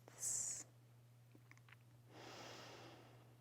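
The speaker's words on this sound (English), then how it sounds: "take 3 long, deep, relaxing breaths" Slow, deep relaxing breaths taken during a hypnosis session for fear of flying: a sharp airy inhale, a pause, then a long soft exhale, close and quiet against a steady low hum.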